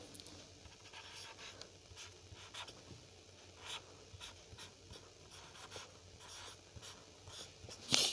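A chemical equation is written by hand, faint pen scratches and taps coming in short irregular strokes against quiet room noise.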